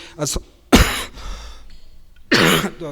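A few short, harsh coughs and throat-clearing bursts, close and loud, separated by brief pauses.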